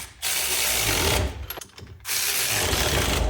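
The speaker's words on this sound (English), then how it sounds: "So I'll get these lug nuts pretty tight." A hand ratchet tightens lug nuts on a wheel hub puller for a 2008 Infiniti FX35 hub replacement, two close bursts of rapid clicking separated by a short pause.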